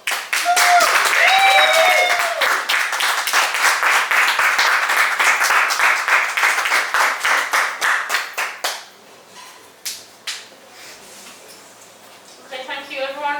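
A live crowd at a spoken word poetry night in Newcastle bursts into loud, dense clapping and cheers for the poet, the applause thinning into scattered claps before a voice speaks near the end.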